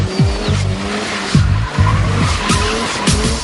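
Tires of a rare twin turbo Mazda RX-7 skid and squeal through a drift at a drift lesson, with repeated rising screeches over a steady loud engine roar, close and continuous.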